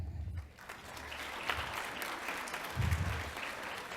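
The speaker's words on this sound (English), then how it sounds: "Let's give a final round of applause for all of these amazing middle school students." Applause from a school board meeting audience for middle school students, a steady wash of clapping from a moderate-sized crowd at some distance, holding fairly even for the whole stretch.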